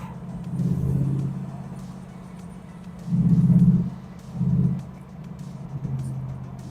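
A car cruises down a country road at a moderate pace, its low engine rumble steady underneath and swelling in a few brief surges as the throttle rises and eases off. No one speaks.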